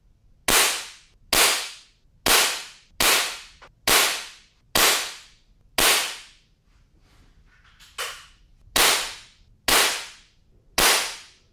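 Daisy Powerline 880 air rifle firing at a target from 10 yards, ten sharp, snappy cracks spaced evenly about a second apart, each with a short fading tail, plus a softer knock in the middle of the string.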